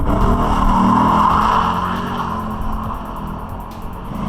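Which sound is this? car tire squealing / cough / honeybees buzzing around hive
car tire squealing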